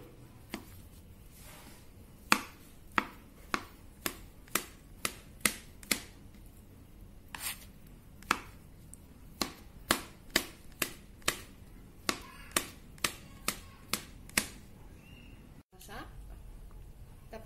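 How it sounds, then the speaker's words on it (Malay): A knife chops small sausages on a cutting board in a home kitchen, landing as a long series of sharp, close, crisp knocks in a steady, slightly uneven rhythm over quiet room tone. "Kita potong juga."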